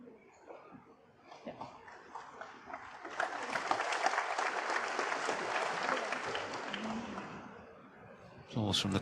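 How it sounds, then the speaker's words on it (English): Applause from the crowd at the 2024 Shanghai Masters snooker final between Shaun Murphy and Judd Trump swells after quiet murmuring, holds as steady clapping, then fades before a sudden loud burst near the end. "Applause from the crowd"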